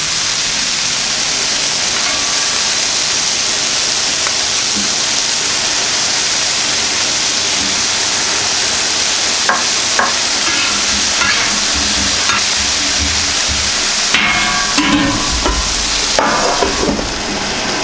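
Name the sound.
butter sizzling on Camp Chef FTG600 flat top grill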